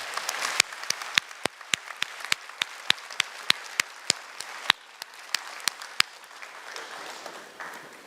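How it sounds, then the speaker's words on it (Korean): A church congregation claps warmly for its finance committee members, the applause close and steady with many sharp individual claps standing out, lasting throughout with no talking. "이분들 위해 뜨거운 응원과 격려의 박수 부탁드릴게요."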